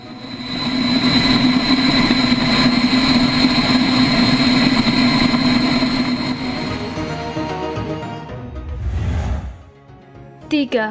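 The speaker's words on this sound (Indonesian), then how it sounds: "Motor tercepat di dunia ini mengadopsi mesin turboshaft yang biasanya digunakan pada helikopter sebagai sistem penggeraknya" An MTT Turbine Y2K Superbike's helicopter-type turboshaft engine gives a loud, steady turbine roar with a high whine for several seconds, then dies down into a brief low rumble and a few clicks.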